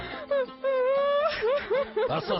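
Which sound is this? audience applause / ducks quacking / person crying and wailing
person crying and wailing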